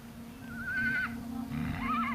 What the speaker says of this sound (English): The big surprise is that it's a Przewalski horse.